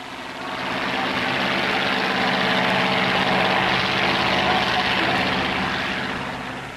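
Engines of lobster fishing boats heading out on the first day of the 1991 Atlantic coast lobster season, a steady broad droning rumble that swells in and holds, with a speaking voice faintly mixed in.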